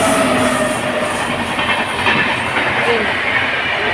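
A train passes close by with a loud, steady rumble and rattling wheel noise that stays continuous for the whole stretch, with no clear voices over it.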